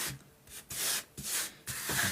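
Sandpaper rubbing over a filled hole in an interior wall being prepped for painting, heard as several close, hissing back-and-forth strokes in a steady rhythm.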